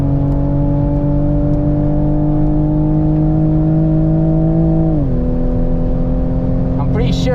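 A Toyota Supra race car fitted with Bilstein suspension runs flat out on the Dijon circuit. The loud, steady engine drone comes from close by, then drops in pitch midway, as if shifting up, before pulling on.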